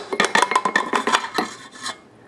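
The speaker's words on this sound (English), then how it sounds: "I'm just going to spoon maybe" Powdered sugar spooned into a mixing bowl for pumpkin spice bars, heard as a rapid series of close scraping and light clinking spoon-on-bowl strokes over about two seconds, then tapering off.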